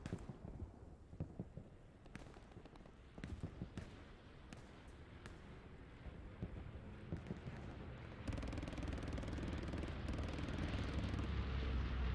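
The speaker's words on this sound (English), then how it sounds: "Comes a bombing run." Aircraft bombing run in the World War II shooter Hell Let Loose: a low engine drone builds and thickens, joined by scattered thuds and impacts, turning into a loud broadband roar in the final seconds.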